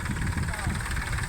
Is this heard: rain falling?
no